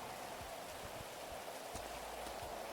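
Steady rain falls in the FiveM modification of GTA V, a soft, even hiss with faint scattered drops, quiet and continuous throughout with no talking.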